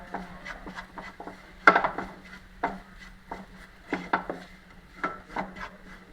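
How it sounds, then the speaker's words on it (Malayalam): Chicken masala and chilli powder being stirred in a cooking pan, heard as scattered wooden scraping and tapping strokes, fairly close and moderately quiet, with one sharper knock. "ഇട്ടൊന്ന് ഇളക്കാം"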